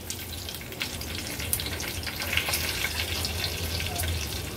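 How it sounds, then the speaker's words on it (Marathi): Mustard seeds and cumin spluttering in hot oil, a steady hiss with scattered faint crackles and pops, close and continuous with no talk. "राई आणि जिरं थोडं तडतडलं"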